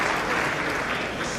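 Applause fills a hall during a televised address by Donald Trump, a thick, continuous roar of clapping from a large crowd that stays loud and even throughout the brief moment.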